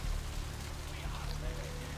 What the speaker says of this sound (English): It's also now raining.